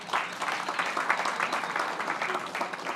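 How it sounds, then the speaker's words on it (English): Audience applause at an entrepreneurship week panel discussion, a steady burst of many people clapping at moderate loudness for the full three seconds, with no speech over it. "So you all give her a round of applause."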